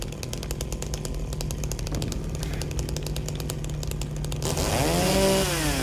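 A chainsaw in the video game Silent Hill 2 remake idles with a steady buzzing drone, then revs up louder and harsher toward the end, with no talk over it.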